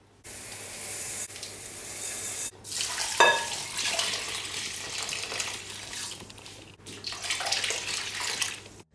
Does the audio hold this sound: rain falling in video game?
no